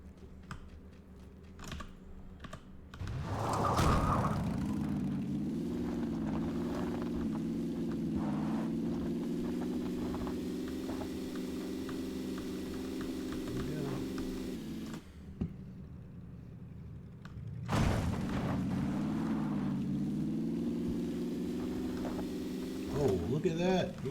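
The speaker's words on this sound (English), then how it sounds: "Motorbike." Motorbike engine in PlayerUnknown's Battlegrounds, a steady droning hum that holds for long stretches, revs up, cuts out briefly and returns, with faint clicks and a voice talking over it.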